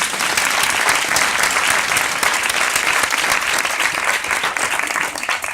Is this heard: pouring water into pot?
no